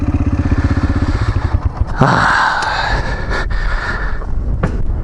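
A Yamaha TTR 125 dirt bike engine putters steadily at low revs, then swells into a louder, sustained rev as it spins through a donut nearby, with a brief clatter at the shift.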